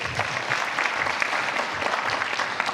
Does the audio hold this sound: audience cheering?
yes